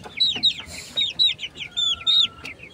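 Fighting roosters of sweater and yellow-legged hatch lines clucking and chirping in short repeated bursts, close and clear, with faint background noise.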